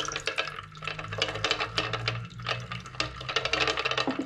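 30% hydrogen peroxide, about 25 milliliters, trickles into a chemical solution for recovering gold from plated circuit-board fingers, with close, continuous liquid gurgling and small splashes.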